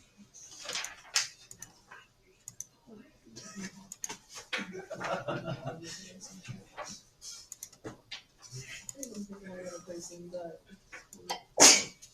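A single sharp, loud sneeze bursts out near the end, following a stretch of casual conversation and a few small chuckles.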